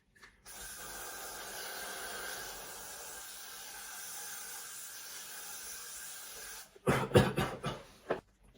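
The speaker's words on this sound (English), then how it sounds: "Right after you put your hairspray on" Hairspray from an aerosol can is sprayed onto hair in one continuous hiss lasting about six seconds, close and soft, then a short burst of clattering knocks as the can is handled.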